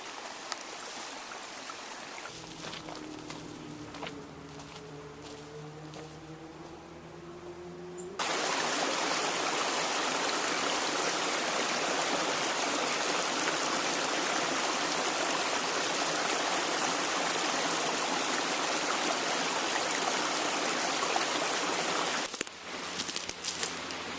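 Mountain stream in Cedar Canyon rushing steadily, faint and distant at first under a low hum, then loud and close as a broad continuous wash of water for the rest of the stretch.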